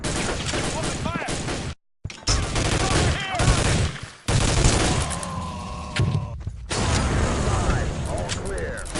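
Rapid bursts of gunfire and weapon mechanisms ring out in the video game Soldier of Fortune II, loud and dense with short pauses, while game voices call out between the volleys.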